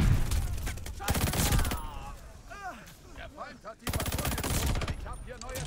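Rapid automatic gunfire in Call of Duty Vanguard multiplayer, two dense bursts of fast shots separated by a short gap, with someone talking over the shooting between bursts.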